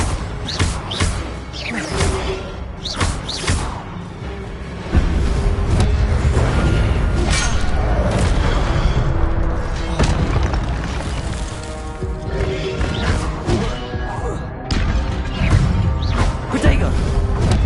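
Incendio fire spell cast again and again in Hogwarts Legacy on PS5, loud fiery bursts and whooshing impacts amid dense game music and effects, with a voice calling out spell names.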